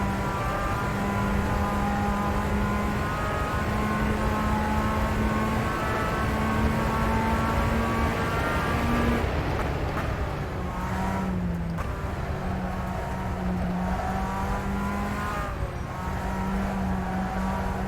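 A Tatuus racing car engine in the video game rFactor 2 drones steadily at high revs, with a brief dip and gear change midway before settling back to a sustained whine.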